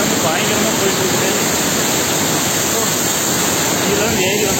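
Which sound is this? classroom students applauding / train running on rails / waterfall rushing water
waterfall rushing water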